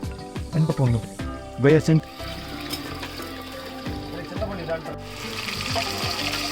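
Onions frying for tempered rice give a low, steady sizzle under someone talking, with clinks and stirring sounds over the first two seconds, and a hiss that grows a bit brighter toward the end.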